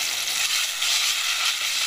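Loud, steady sizzling and crackling of blended tomatoes frying in a hot pan, close up, with no voices.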